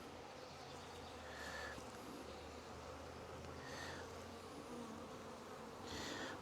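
Honeybees buzz continuously during a hive inspection on a June day, a dense steady drone with a few individual bees passing closer and louder now and then.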